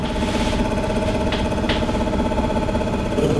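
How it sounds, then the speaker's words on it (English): A lathe runs at reduced speed while set up with a thread chasing jig, a loud, steady motor drone with a rhythmic mechanical rumble and a couple of brief higher scraping bursts, no talking. "I'm going to turn the lathe speed down a little bit"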